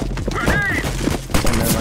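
Tec-9 pistol fire in a Counter-Strike match, sharp gunshot bursts standing out against dense game noise while a player talks over the action.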